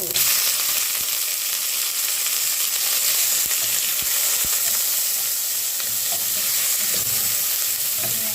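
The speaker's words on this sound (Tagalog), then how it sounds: "Igisa natin yan hanggang sa mag-brown ang ating buto-buto na yan." Pork ribs sauté in a little cooking oil in a pan, a steady loud sizzle and crackle running throughout with occasional soft stirring clicks and no talking.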